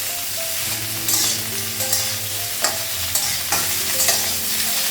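Cauliflower and potato frying in a pan while being stirred, a steady sizzle broken by repeated scraping and clattering strokes of a spatula at an irregular pace, close up with no talk.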